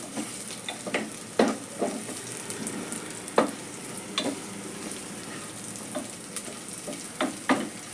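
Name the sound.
onions frying in a pan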